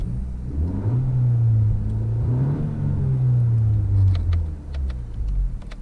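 A turbocharged 2019 Honda Civic Si Coupe engine revved while parked, climbing smoothly to a sustained high drone, holding, then dipping and rising again before settling back to idle. Close, loud, and with no talking over it.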